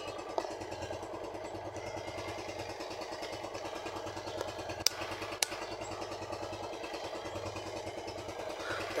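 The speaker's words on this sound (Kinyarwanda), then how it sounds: "Ubu buji yacu tuba tuyishizemo kandi iba yabaye demareri, moto iba yaka." A motorcycle engine with a freshly fitted spark plug runs steadily at idle, a continuous low rumble with faint mechanical clatter and a couple of sharp ticks, no talking.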